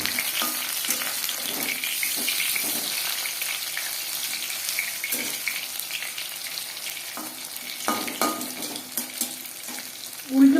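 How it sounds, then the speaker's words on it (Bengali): Prawn and vegetable pakoras fry in hot oil with a steady, close crackling sizzle, broken by scattered scrapes and taps as the pieces are flipped over, one louder clank at the very end. "উল্টে পাল্টে ক্রিস্পি করে ভেজে দেবে"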